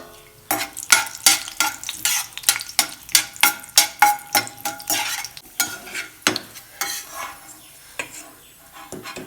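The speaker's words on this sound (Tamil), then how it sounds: "முந்திரியை வறுத்துட்டேன்." Cashews fry in ghee as a spoon stirs them in a pan, giving a steady sizzle broken by repeated sharp scraping and tapping strokes in quick rhythm, close up.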